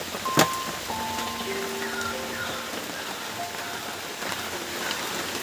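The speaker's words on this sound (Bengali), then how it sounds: "ভালোই জবরদস্ত বৃষ্টি শুরু হয়ে গেছে" Heavy rain pouring steadily, a dense even hiss of drops with one sharp tap near the start and faint whistling tones behind it.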